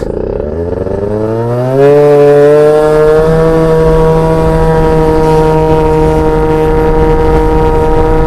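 A Yamaha Jog scooter engine revs up loudly and close, its pitch climbing quickly before holding at a high, strained drone for several seconds.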